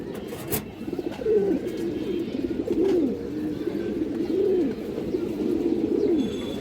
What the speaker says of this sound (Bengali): সুন্দর একটা সিলভার নর কবুতর দর্শক এই দেখেন একবার ফুল ডাউন টেপের কবুতর